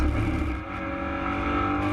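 A GT4 race car in a virtual racing game brakes hard into a corner, its engine droning and shifting pitch as it slows, loud and steady for about two seconds.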